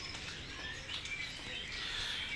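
White-rumped shama (murai) chirping in thin, high bright notes through steady hiss and background chatter, with faint rustling or wing movement during a bird check before packing.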